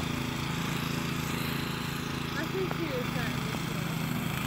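A snow blower runs at a distance with a low, steady engine drone, while people talk over it outdoors in the snow.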